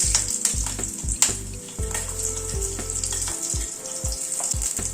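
Half a teaspoon of Bengali five-spice, a pinch of asafoetida and a green chilli crackle in hot oil, a close continuous sizzle with irregular pops and spits throughout.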